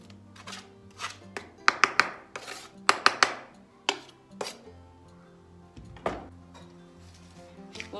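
Spoon clinking and scraping against a bowl while mixing kısır ingredients with chopped onion and salt, irregular metallic taps and clatters in a few quick bursts, close and clear with no talk.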